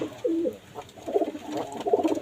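Pigeons coo in several throaty, rolling phrases close by, one early and a longer run of overlapping coos later, with no voices.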